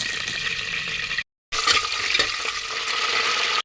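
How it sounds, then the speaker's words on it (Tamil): Cinnamon and cloves frying in hot oil for a home-style chicken biryani, giving a loud, bright, continuous sizzle close up, broken by one brief silent gap before crackling on. "எண்ணெயை இப்போ ஊற்ற போகிறோம் நல்லா சூடாச்சு எண்ணெய் இதை கூடாட்டிங்க பட்டை கிராம்பு இதை கூட போகிறோம்"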